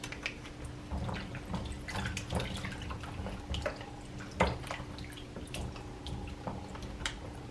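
Vinegar splashed over a bowl of five or six potatoes in a home kitchen, heard as faint, scattered drips and a light liquid trickle over a low steady background hum.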